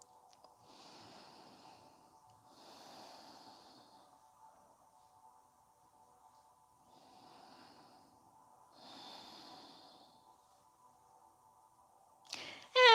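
During a supine yoga twist, slow steady breathing comes in four soft, evenly spaced breaths, near and quiet against a silent room, followed by a brief rustle at the end.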